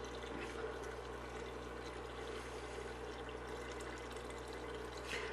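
A gallon of water pours into a pot of chicken stock, a steady, continuous splashing stream that stays fairly quiet and even the whole time.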